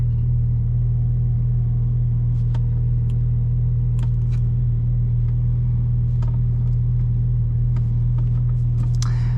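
A 2015 Porsche 911 Carrera 4S PDK with Valvetronic exhaust accelerates, a deep, steady exhaust drone revving under load at upper RPM, close and loud, with faint clicks and ticks scattered over it.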